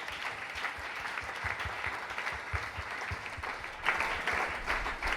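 A church congregation applauds steadily, a dense wash of clapping hands that holds at an even level and swells louder near the end, with no voices standing out.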